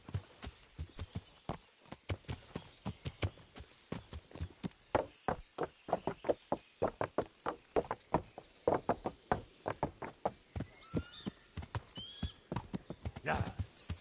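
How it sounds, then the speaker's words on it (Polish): Horse hooves clip-clop steadily through a medieval village in Kingdom Come: Deliverance, a brisk, even rhythm of sharp strikes close by, with a horse whinny near the end and someone speaking over the hoofbeats. "I have to be a little bit careful with the horse."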